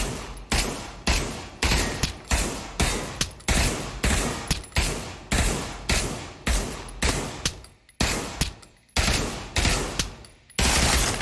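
Rapid bursts of gunfire in a VR shooting game: a dozen or so loud automatic volleys fired at targets, each a dense rattle separated by short gaps, with no talking.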